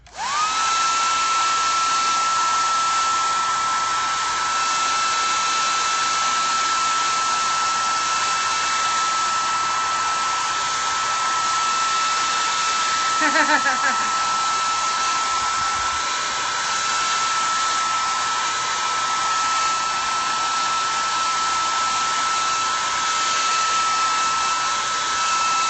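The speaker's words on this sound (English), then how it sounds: "here goes my loud dryer again." A loud hair dryer blows continuously at close range, a steady high-pitched whine and rush of air that barely changes throughout.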